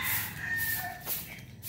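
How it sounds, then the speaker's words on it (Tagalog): A rooster crows once, a drawn-out call at moderate distance, heard alone without talk. "narinig nyo na ang mga tilaok ng manok."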